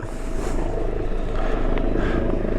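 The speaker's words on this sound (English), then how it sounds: "as the Queensland rescue chopper manoeuvred into the LZ" A Queensland rescue helicopter is manoeuvring in to land at a landing zone, its steady rotor and engine drone holding at a moderate distance, with faint voices underneath.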